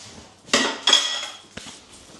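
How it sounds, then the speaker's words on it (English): Dishes being washed at a home kitchen sink: a loud metallic clatter of pots and cutlery, two clanking bursts that ring briefly, then a lighter clink, close by with no talking. "I might even just do the dishes as well"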